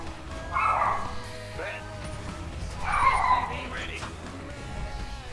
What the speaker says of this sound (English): That was Power, that's Anna's dog.